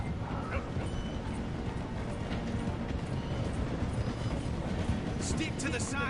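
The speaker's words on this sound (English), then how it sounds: "Train's slowing down to go through." A steam train rolling and slowing in Red Dead Redemption 2, a steady rumbling clatter with a dog barking now and then and someone talking over it.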